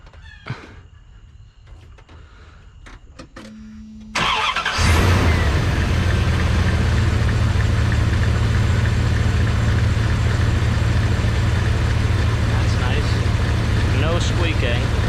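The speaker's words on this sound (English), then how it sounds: "Squeaking, but it looks like that is not the right alternator pulley" A 1997 Dodge 1500 engine starts and then runs steadily and loud, with a faint high squeak from a worn alternator pulley threaded through the idle. Quiet talk and handling noises come before the start.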